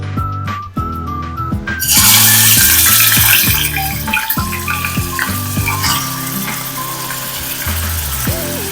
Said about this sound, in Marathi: हे तेल आपलं गरम झालेलं आहे सो आपण याच्यामध्ये कोळंबी टाकूया